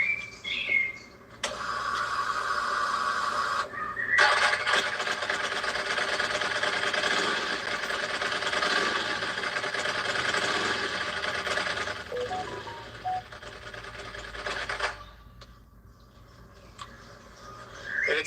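A Ducati superbike with an open clutch and stock muffler revs hard in a sustained, loud, rough mechanical roar that holds for about ten seconds before dropping back toward idle, with no one talking.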